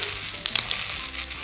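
Food frying on high heat in an iron frying pan, a dense close-up sizzle with a few sharp crackles and pops near the middle, steady throughout and without voices.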